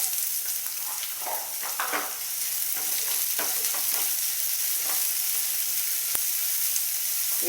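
Sliced onions sizzle steadily in a hot pan while being stirred, for a semiya noodle dish, a constant close frying hiss with occasional scraping stir sounds and no talk.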